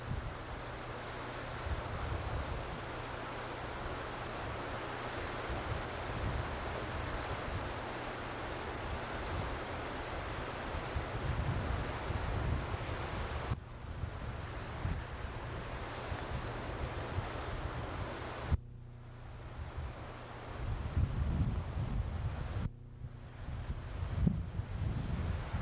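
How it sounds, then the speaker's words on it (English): Waves breaking on a Great Lakes shore near a breakwater, a steady roar of surf with heavy wind buffeting the microphone throughout, growing rougher toward the end. "You usually don't see waves like that on a lake"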